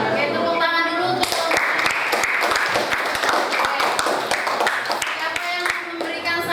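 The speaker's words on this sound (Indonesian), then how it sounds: "Oke, tepuk tangan dulu untuk" A classroom group at a teacher-training session bursts into quick, uneven hand clapping, loud and close, lasting several seconds with a few voices mixed in.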